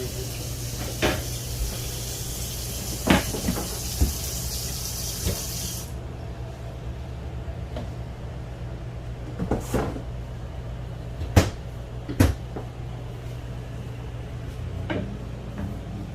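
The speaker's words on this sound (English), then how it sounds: "Check all the drawers here, please." Drawers and cupboard doors in a Grand Design Solitude RV are pulled open and pushed shut, scattered sharp knocks and thumps spread over a quiet interior, with running water fading out early on.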